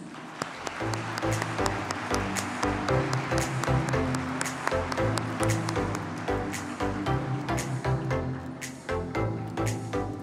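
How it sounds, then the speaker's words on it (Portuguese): Warm applause from an audience at an awards ceremony greeting honoree Clarissa Lins, steady dense clapping with sharper individual claps standing out, continuing for several seconds. "Vamos receber com uma calorosa salva de palmas a senhora Clarissa Lins"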